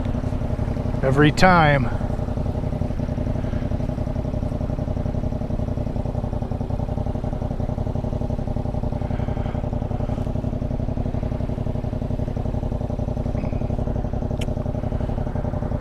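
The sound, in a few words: Yamaha MT-07 motorcycle shifting into neutral, engine idling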